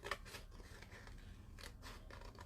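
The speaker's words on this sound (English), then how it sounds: "Then I'm going to take my scissors. I'm going to cut out my little doodle here." Scissors snip through paper to cut out a small drawn doodle during an abstract art demo. The cutting is quiet, with a few faint crisp snips close by.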